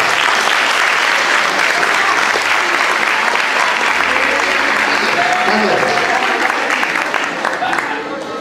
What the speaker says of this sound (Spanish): Un aplauso para la gente